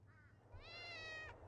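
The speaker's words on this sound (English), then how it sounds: "Oh, kitties." Cats in the video game Thirty Flights of Loving let out a soft meow followed by a longer, louder one, both faint and heard with no talking.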